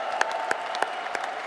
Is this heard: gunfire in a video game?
no